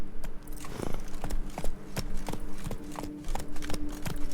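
Roach the horse galloping in Witcher 3, a steady run of hoof clip-clops pounding out a rapid, even rhythm, fairly close and alone with no talk over it.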